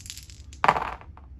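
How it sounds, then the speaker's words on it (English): Three dice rolled onto a table during a Kingdom Death: Monster board game session, giving a short clattering burst with quick rattling bounces that settle within about half a second, heard alone. "We roll 3 dice, looking for 5s."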